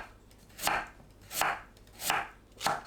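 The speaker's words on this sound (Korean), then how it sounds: "무를 납작하게 썰어줍니다." A knife slices radish flat on a cutting board for squid kimchi stew, four even, crisp chops spaced roughly evenly apart, close and clear with no talking.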